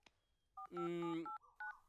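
Telephone keypad dialing tones from a comedy movie scene: a few distinct DTMF beeps of varying length, fairly loud and close, with a brief voice at the start.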